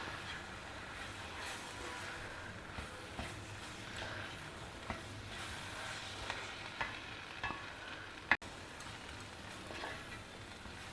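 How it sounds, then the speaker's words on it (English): Potato and capsicum sabji with roasted besan being stirred in a pan, a steady soft sizzle with faint scrapes of a spoon and one sharp knock near the end, quiet and continuous. "Give it a good mix."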